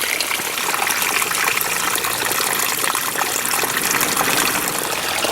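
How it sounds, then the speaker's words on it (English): Water gushes steadily from a roadside spring in Big Sur as a bottle fills, a constant close, loud rushing splash with no pauses. "I'm about to go fill up my water from a really delicious spring right on the side of the road."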